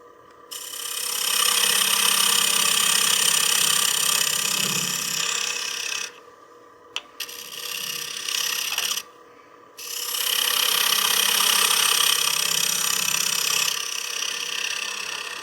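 A skew negative rake scraper turns wood on a lathe, a loud, steady, close rasping scrape in bursts of several seconds, broken by brief pauses where the lathe hum continues alone.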